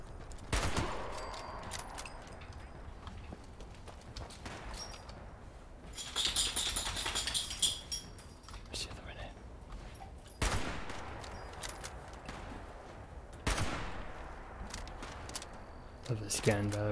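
Gunfire from the player's weapon in Fallout 76, several separate bursts of rapid shots spread across the span, each with a sharp onset, while a voice talks between them.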